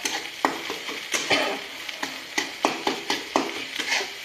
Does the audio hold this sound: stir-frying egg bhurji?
yes